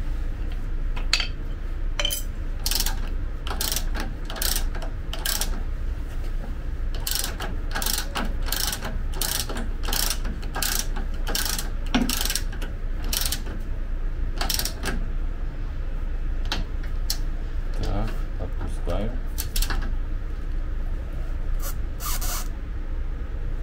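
A wrench ratcheting a new nut onto the front guides of an ALLROAD C21, steady close clicking strokes in a fast repeating rhythm over a low constant hum, with no talking.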